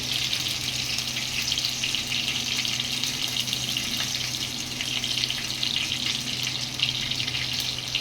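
Paneer masala of ground cashew, tomato and onion frying in a pan, a steady hissing sizzle with a watery bubbling edge, even and close throughout, no voices.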